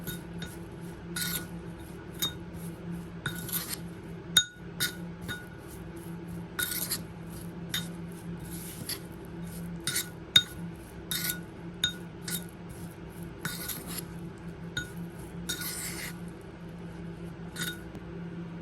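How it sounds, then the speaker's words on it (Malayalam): Repeated light metallic clinks of a spoon against a container while stirring mango pickle mixture, irregular taps scattered over a steady low background hum, close by. "നമുക്കിത് നന്നായിട്ട് ഇളക്കി യോജിപ്പിച്ചു കൊടുക്കാം"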